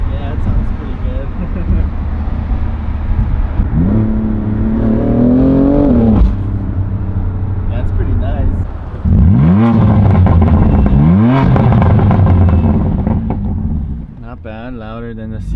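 A BMW M4 with carbon fiber upper splitters revs loudly from the cabin, several sharp rising and falling engine sweeps over a steady idle rumble, with people talking through it.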